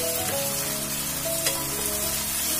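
Tomato and green chilli dropped into hot oil, sizzling and crackling steadily up close with a few sharper pops and spatters and no voices.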